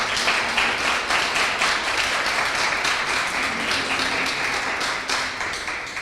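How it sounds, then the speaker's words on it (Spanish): A church congregation applauding during a Sunday service, a dense sustained wash of many hands clapping together that gradually tapers off, with no talk over it. "Démosle un aplauso al Señor por eso"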